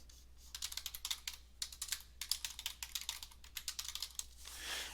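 Quiet bursts of rapid typing on a computer keyboard while a business service form is filled in, with close, crisp key clicks in several runs separated by short pauses and a soft rustle at the end, with no talk.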